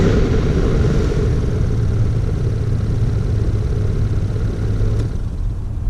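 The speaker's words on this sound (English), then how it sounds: "So that's low speed, that's 2, and that's 3" The AC blower fan in a Toyota Tacoma truck runs with a steady, close, loud whooshing rumble that holds constant throughout, with no talk.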